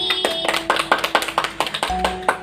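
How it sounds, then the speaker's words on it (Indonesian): A fourth-grade class claps hands together in a quick, rhythmic pattern of sharp, close claps, about a dozen distinct beats over a couple of seconds, with faint steady tones behind. "marilah kita memberi tepuk tangan untuk diri kita sendiri"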